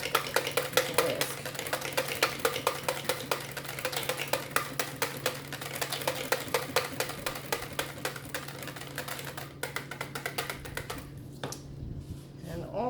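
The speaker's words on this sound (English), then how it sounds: "I'm just going to use the whisk." A whisk beats thick hemp milk soap batter in a bowl, a rapid close rhythmic clatter of repeated strokes that slows near the end, with a faint steady hum underneath.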